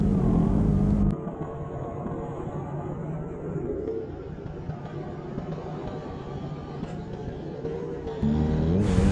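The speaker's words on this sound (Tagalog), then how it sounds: "Etong dalawang ito na naka big bike na umatras pagdating sa taas at na-stop naman ang isa." Big bike motorcycles labor up a steep slope on a ride toward a Tagaytay resort, their engines a loud close rumble that drops to a lower steady drone, then swells again at the end.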